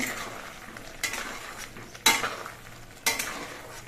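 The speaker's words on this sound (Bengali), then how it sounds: "গরম মশলা গুঁড়ো দিয়ে নেড়েছে মিশিয়ে নিতে হবে" Garam masala powder is stirred into a simmering lentil curry in a pan, with a soft bubbling underneath and four sharp scrapes or knocks of the spoon against the pot about a second apart.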